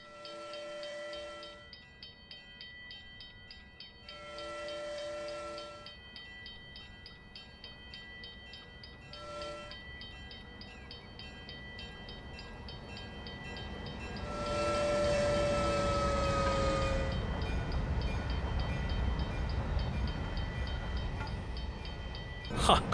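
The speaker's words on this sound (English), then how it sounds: "Oh, train coming." A video-game train, an EMD GP9 locomotive in Train Simulator 2016, approaches with repeated whistle-like horn blasts, then rumbles loudly past in a swelling roar, alone with no talk.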